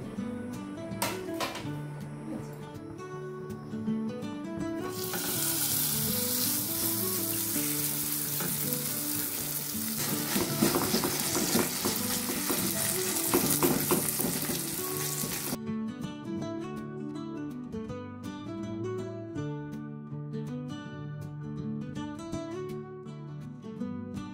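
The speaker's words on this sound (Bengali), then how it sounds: "তাই আমি দুটো কড়া বসিয়ে দিয়েছি, দুটো ওভেনে তাড়াতাড়ি করে ভেজে নেব।" Oats omelettes frying in two pans at once give off a steady, broadband sizzle that swells in the middle stretch, heard under continuous background music.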